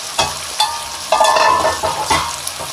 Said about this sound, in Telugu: ఒక 2 మినిట్స్ వేగనిద్దామండి.